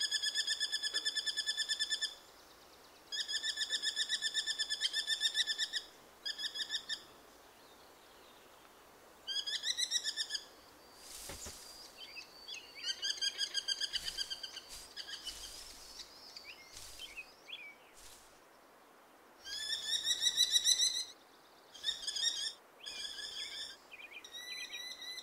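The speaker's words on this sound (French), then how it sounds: "Sur l'autre rive, l'émerillon apporte sa nouvelle capture à ses fauconneaux." A merlin and its fledgling chicks calling in a forest, with bursts of high, rapid, piercing chattering calls repeated in clusters, separated by quieter pauses over a faint background hiss.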